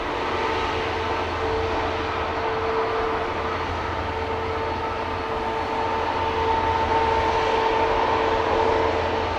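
Jet airliner departing Amsterdam Schiphol Airport, a loud continuous engine roar with a steady whine running throughout, heard from a distance without interruption.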